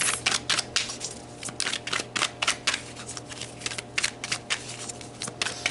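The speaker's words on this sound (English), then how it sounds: "So let's pull some more cards." A deck of tarot cards is shuffled up close in a steady run of quick riffling bursts, each a crisp papery flutter repeating in a loose rhythm, with no talking.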